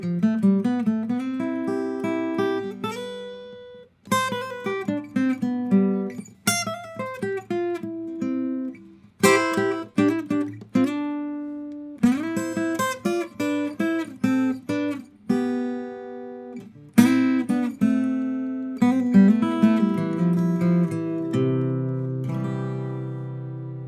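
A single guitar improvises freely up and down the neck, ringing melodic phrases and chord fragments in separate bursts with brief pauses between them, clear and close with no voices.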